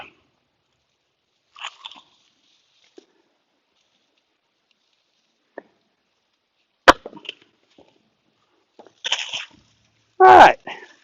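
Hand tools strip bark and sapwood from a split wood billet in a workshop, giving sparse isolated knocks and scrapes, then a sharp crack followed by a loud, crunchy burst of splitting and shaving wood near the end.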